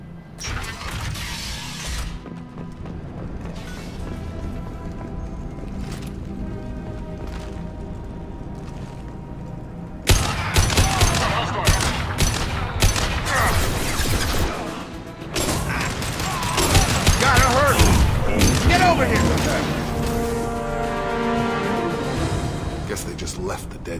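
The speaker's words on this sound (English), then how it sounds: "The Blue Suns and Vorcha are shooting anything that moves." Gunfire from Blue Suns mercenaries and Vorcha in the video game Mass Effect 2: bursts of shots and crashing impacts over a dense mix of music and noise. Talk runs over much of the action, which grows louder after the opening stretch.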